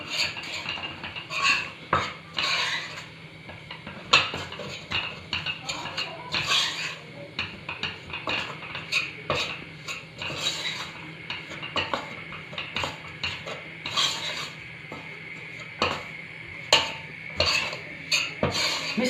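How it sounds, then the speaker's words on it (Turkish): Flour slowly dry-roasted in a pot for mushroom soup, a utensil scraping and clinking against the pot in steady, repeated strokes, with faint background hum throughout. "Şimdi unumu yavaş yavaş kavuruyorum."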